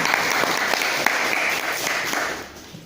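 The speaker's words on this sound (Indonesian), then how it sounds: "Tepuk tangan buat aku semua." A church congregation claps together in sustained, steady applause that stays loud and close for the whole span, thinning only slightly near the end.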